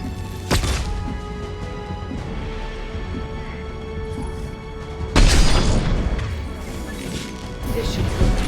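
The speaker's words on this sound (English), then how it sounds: "Watch out, flashbang!" A flashbang grenade goes off in Mass Effect 2 combat as one loud, close crash with a sharp attack, followed by noisy clatter and rumble, over a steady game soundscape.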